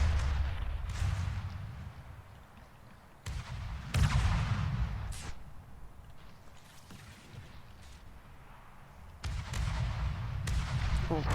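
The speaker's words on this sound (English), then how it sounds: "I just love it when ships just broadside each other, just slugging away at each other." Warship guns firing broadsides in the naval combat game From the Depths: repeated heavy booming blasts at irregular intervals, some close together, with a rumbling battle din between them.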